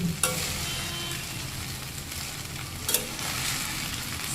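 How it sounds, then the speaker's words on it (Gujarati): Schezwan fried rice is stirred in a hot pan with a continuous close sizzle and a couple of sharp clinks from the utensil scraping the pan. "હવે ધીમે ધીમે બધો મિક્સ કરી દેવાનું"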